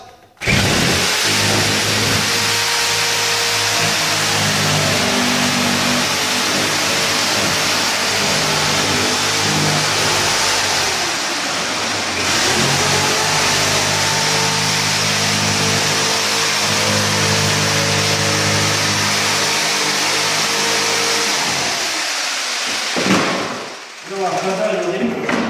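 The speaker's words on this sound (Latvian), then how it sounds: "Nu jā, jā, tas ir ritīgais zāģis." A heavy-duty saw runs continuously and loudly while cutting through stones, its engine-like drone steady for over twenty seconds before briefly dropping near the end.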